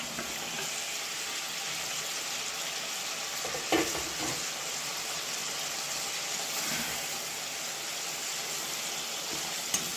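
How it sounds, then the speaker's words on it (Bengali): Fried eggs go into an egg curry cooking in a pan with salt, a little water and ground spices, giving a steady close sizzle with a couple of brief clatters and stirring sounds. "এখন দিয়ে দিলাম ভাজা ডিম।"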